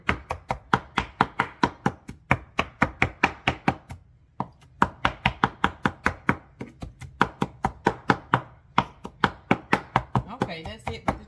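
Rapid, regular knife strikes on a cutting board as tomatoes are chopped, close and crisp, with one brief pause before the rhythmic chopping resumes.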